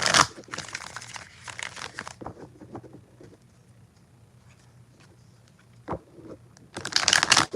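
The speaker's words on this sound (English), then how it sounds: "I'm swapping decks again, only because I feel like I keep getting the same cards out, and I'm shuffling" Tarot cards being shuffled during a live reading, crisp rustling and riffling in short bursts at the start and end with a quiet gap between, close and fairly soft.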